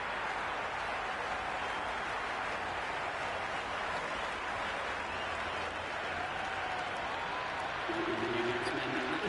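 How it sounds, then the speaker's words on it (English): Crowd noise at a cricket match in the video game Cricket 26: a steady, dense roar of spectators filling the whole stretch, swelling slightly near the end. "It's evident and ever so audible that the crowd is at near bursting point with excitement at today's play."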